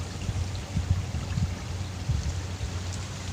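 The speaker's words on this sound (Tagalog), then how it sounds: "Lumalabas yung tubig dun, galing sa palay. Tapos ang bilis pa ng agos." Water rushes quickly out of a rice paddy, a steady broadband flow with low gurgling pulses and splashy churn, fairly close and continuous with no talk.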